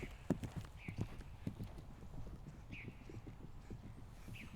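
Hooves of a horse cantering in a riding lesson beat out a steady rolling rhythm close by, with occasional snorts and an instructor's voice calling out over the footfalls.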